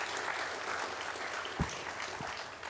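Applause rises from the audience at a university graduation and awards ceremony for the best graduating student, a soft, sustained patter of many hands heard from a distance, with a low thump partway through.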